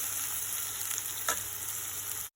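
Raw banana roast being stirred in a frying pan, a steady close sizzle of frying with a brief scrape of the spatula partway through, no voices.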